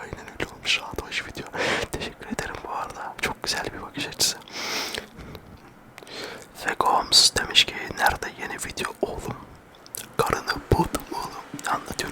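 Close, wet chewing of gum with soft smacks and clicks in a Turkish ASMR setting, mingled with intermittent whispering throughout.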